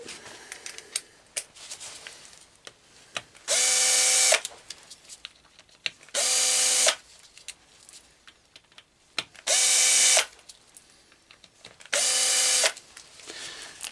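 A power ratchet backs out the clutch screws on a BMW K1200 GT motorcycle in four separate loud whirring bursts, each about a second long, with quieter clicks and handling noises between them and no talking.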